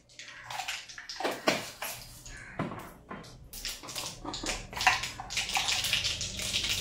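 Mustard seeds crackle and sizzle densely in hot oil for a tempering, a continuous bright spattering with irregular pops, close and fairly loud throughout.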